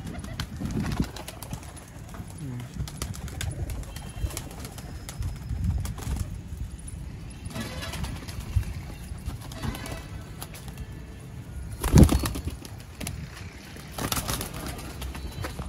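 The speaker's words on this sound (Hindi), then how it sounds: "ये दोस्तों माशाल्लाह पट्ठा कबूतर है" Soft cooing from a male pigeon over a steady outdoor background hum in Sialkot, with a brief louder burst near the end.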